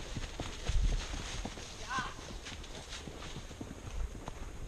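A horse's hooves clip-clop at a steady walking rhythm on a trail ride in Leelanau County, moderately close but fairly soft, with a faint brief vocal sound partway through.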